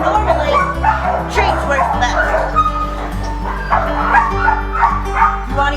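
Several dogs at a training facility bark and whimper close by, with repeated yips and whines layered over a steady low hum and occasional talk.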